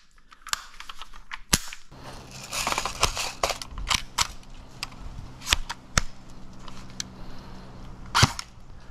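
An airsoft gun fires BBs through a chronograph, giving several sharp, snappy pops spaced a second or more apart, close and loud, with faint handling clicks between shots.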